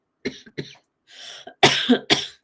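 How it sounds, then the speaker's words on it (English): A short burst of coughing: a few quick coughs, a brief breathy pause, then two harsher, louder coughs, close by. "I'm going to start coughing now."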